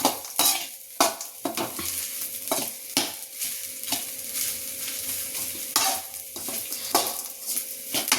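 Rice stirred in a pan over a low flame, with repeated scraping strokes of a utensil against the pan in an uneven rhythm over a soft sizzle, close and without talk.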